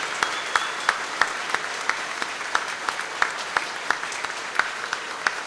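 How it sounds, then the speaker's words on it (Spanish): A congregation applauds at a Mass honoring the Virgin of Chaguaya in Mar del Plata, Argentina, with steady, moderately loud clapping from a crowd and sharper individual claps standing out in an irregular rhythm throughout. "Un aplauso para la Madre de Dios que ha venido a visitarnos"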